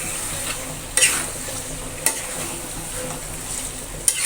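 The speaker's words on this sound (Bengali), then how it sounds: "এটা এখন ভালোভাবে মশলার সাথে মিশিয়ে নেব" Spiced beef for jhuri bhuna sizzles steadily in a pan while a spoon stirs it, with a few sharp scraping strokes against the metal over the constant frying hiss.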